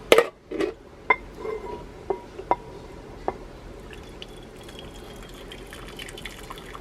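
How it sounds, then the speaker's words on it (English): Draining a small amount of pasta cooking water from a pot into a bowl on a stovetop: sharp drips and splashes at the start, then a faint, steady trickle of liquid. "And I'm going to drain this water"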